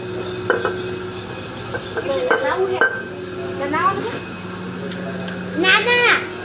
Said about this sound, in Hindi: बर्तन की धुलाई करनी थी।